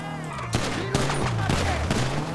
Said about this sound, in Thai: โอ้ยิงอะไรกันนักหนาวะเนี่ย